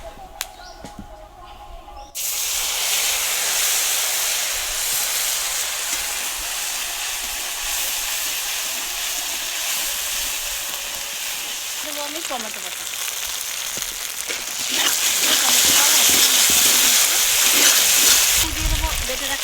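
Whole garam masala, dried chilli and bay leaf sizzle steadily in hot oil for a paneer capsicum dish, starting abruptly after a quiet moment and staying loud under a talking voice.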